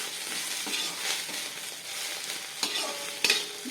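Spices and greens sautéing on low heat in a pan while a spatula stirs, with a steady soft sizzle and scraping strokes, a few sharper clinks near the end.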